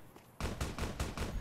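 A huge gun fires in Fallout New Vegas: after a brief quiet moment, five or so powerful shots boom out in fast, steady succession, loud and near.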